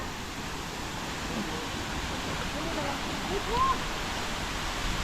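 A waterfall on Camiguin Island gives a constant broadband rush from start to finish, with faint voices underneath.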